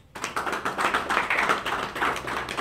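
An audience claps for NGO collaborators at the opening of a youth centre, dense steady applause from many hands, fairly close and sustained throughout.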